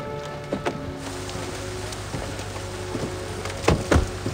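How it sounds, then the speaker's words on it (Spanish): Torrential rain pours in a dense, continuous wash during a film scene of a couple getting out of a car, with a few louder thuds or splashes near the end. "Llueve torrencialmente."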